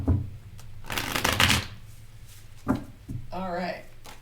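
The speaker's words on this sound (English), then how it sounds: "I'm going to shuffle this a couple more times" A deck of tarot cards is shuffled close up in a couple of quick riffling bursts with brief pauses between them, and someone speaks briefly near the end.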